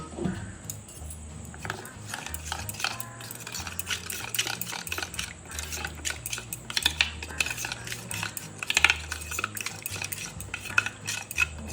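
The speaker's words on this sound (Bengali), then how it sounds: "জল দিয়ে এটা একটা পেস্ট বানিয়ে নেব।" A spoon stirring cumin and turmeric spice paste with water in a bowl, steady scraping and clinking strokes repeating close up, with faint background sounds.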